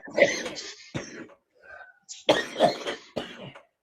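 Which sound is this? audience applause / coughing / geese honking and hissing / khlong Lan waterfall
coughing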